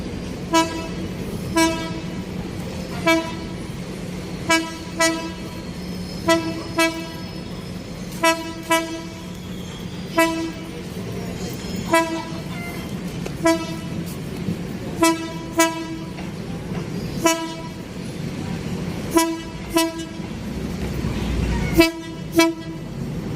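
Train passing near the NLEX-SLEX connector construction along Ramon Magsaysay Boulevard, sounding a series of short, evenly spaced horn toots over a steady rumble of moving cars for over twenty seconds.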